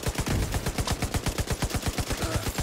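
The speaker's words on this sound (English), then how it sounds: "You go ahead and shoot your grenades, buddy." Rapid, evenly spaced gunfire bursts from a grenade launcher in The Division 2, a steady rhythm of sharp shots lasting throughout, close and loud with no talking.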